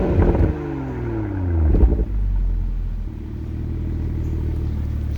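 Toyota GR Supra running its stock OEM downpipe exhaust: a deep, clean engine rumble with a couple of quick revs and falling tones, then a steady idle drone, loud and close.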